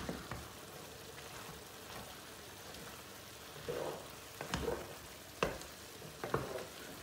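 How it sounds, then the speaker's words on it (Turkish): Meatless eggplant dish bubbles and pops softly in a pot, with scattered gurgles and small bursts over a low simmering background. "Yemek fokur fokur kaynıyor."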